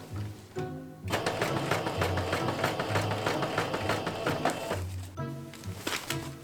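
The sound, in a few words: sewing machine sewing bias tape onto a leather jacket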